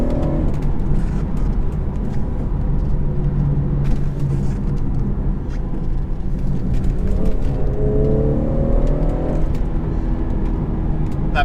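A 2016 BMW 440i Cabriolet with a B58 engine accelerates at full throttle on a British B road, a steady, loud engine drone from inside the car that climbs in pitch with a gear change, mixed with road and wind noise.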